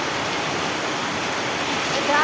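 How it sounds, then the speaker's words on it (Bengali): Heavy rain falls in a rural village, a dense, steady rushing roar like a downpour over fields, with a voice briefly heard near the end. "একদম প্রচণ্ড বৃষ্টি হচ্ছে না?"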